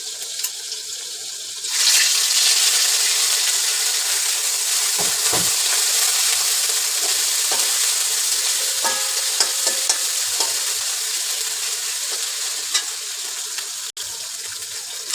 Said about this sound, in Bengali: পেঁয়াজগুলো ভেজে নিয়ে একটু পানি দিয়ে দেব